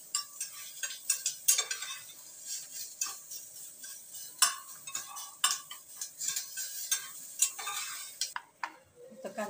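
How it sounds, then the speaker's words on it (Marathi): Onion fries in a pan until pink, a soft sizzle broken by frequent ladle clicks and scrapes against the metal, quiet and close with no talking. "आता कांदा झालाय ना गुलाबी फ्राय करून."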